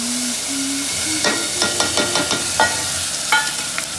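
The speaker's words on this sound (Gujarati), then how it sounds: "તો આપણે આ ડાયરેક્ટ તેલમાં નાખી દઈશું." A wet mixture of peanuts, coriander, sugar and salt hits hot oil with a sharp sizzle, followed by a run of crackling pops and spits that settle into steady frying.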